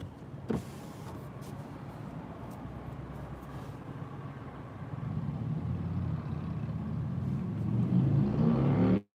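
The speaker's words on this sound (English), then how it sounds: "every time a motorcycle or a car that sounds like a lawnmower goes under that, they always rev their engine" A car engine revs up as it passes beneath a road underpass, a steady loud roar that builds and grows louder toward the end before cutting off abruptly.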